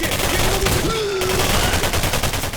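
A shotgun fired in a first-person shooter game, with loud dense blasts and crashing effects packed tightly together, plus a faint rising tonal whine over the din and no voices.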